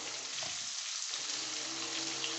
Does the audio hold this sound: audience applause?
no